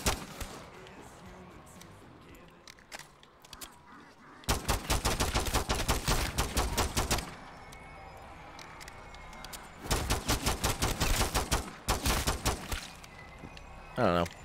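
Pistol gunfire in Modern Warfare 3 Zombies, two long bursts of rapid loud shots in quick succession, with quieter game noise and a few scattered shots between them.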